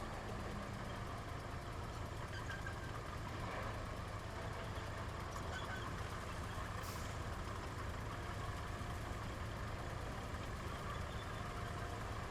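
A heavy truck engine in the video game RoadCraft rumbles steadily throughout, a low continuous drone with some faint mechanical clatter, no voices.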